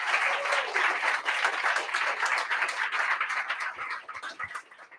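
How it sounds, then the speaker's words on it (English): A crowd at a bootcamp graduation and project pitch event in London claps in sustained applause, dense and steady, then gradually thins and fades toward the end. "a big round of applause for them in their absence as well"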